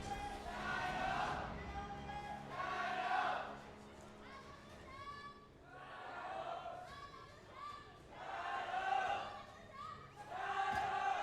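A crowd at an Honor of Kings World Championship esports match cheers and chants in loud swelling waves, rising and falling several times in a big arena.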